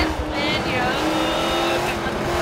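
A race car engine drones steadily in Forza 7 during a Road America race, a loud sustained roar with faint tire noise, while people talk over it.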